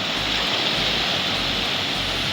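Loud, continuous rushing of strong wind-driven sea waves against rocks at Baler, a dense roar with no pauses and a rumbling low end.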